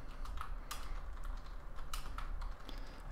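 Typing code on a computer keyboard for a PHP programming lesson: a steady run of close, soft key taps with a few sharper strikes, alone with no talking over a low background hum.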